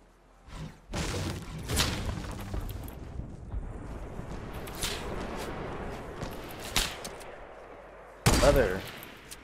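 Semi-automatic gunfire in the Fortnite battle royale video game, a few sharp separated shots with a loud burst near the end over a low background rumble.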